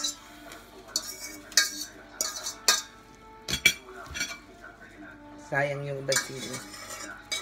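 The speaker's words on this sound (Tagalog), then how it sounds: "Sasalin ko na sa plato." Samyang spicy noodles being moved onto a plate with utensils: repeated metal clinks and scraping of cutlery against dishes, close and moderately loud, with a brief voice speaking in between.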